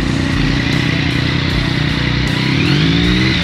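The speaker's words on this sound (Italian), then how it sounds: "Adesso accendi la moto." A Yamaha MT-09 SP motorcycle with an UpMap tune runs loud and close, its throaty engine rumbling steadily before a rising rev sweep in the final second.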